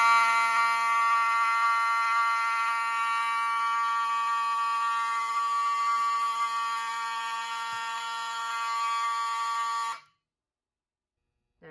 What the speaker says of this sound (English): Alright, now let's demonstrate the system in general alarm.